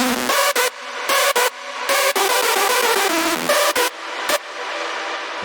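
A bright, sustained hardstyle synth in FL Studio plays in choppy bursts with brief dropouts, its tail washed in reverb and echoing delay repeats; no voices.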